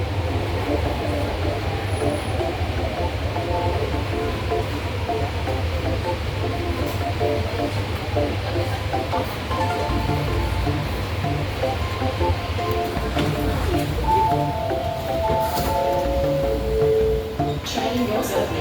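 Sydney Metro train riding from Barangaroo to Central Station, a loud continuous rumble and rolling wheel noise inside the carriage, with rising tonal whine and hiss near the end.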